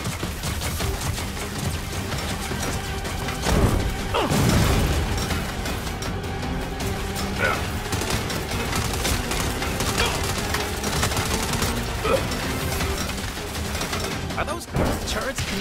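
Gun turrets open up during a Saints Row vehicle chase, with repeated bursts of gunfire and booming impacts over constant engine and road noise. Voices cut in and out amid the chaos.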